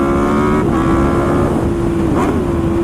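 A steady, loud engine drone from an Aprilia RSV4 RR motorcycle held at high revs, with a sustained tone that dips slightly and recovers near the end, running continuously throughout with no talk.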